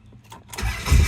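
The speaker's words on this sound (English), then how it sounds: "let's hear that 440 Chrysler engine with 375 horsepower" A Monteverdi High Speed's 375-horsepower Chrysler 440 V8 is started: a short crank and clicks, then the engine catches and roars up loud and close.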